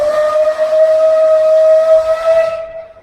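A loud, sustained steam locomotive whistle blast with a hissing edge on the Isle of Man Steam Railway at Douglas, holding one steady tone for a few seconds before cutting off.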